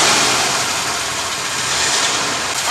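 An old car's engine runs steadily after a carburetor and choke repair, a continuous broadband roar with no rhythm changes, loud and close, swelling slightly at the end.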